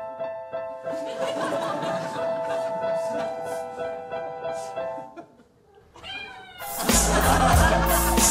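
Cat meowing amid a busy mix of voices and chuckling, followed by a brief quiet gap and then a louder burst of noisy sound at the end.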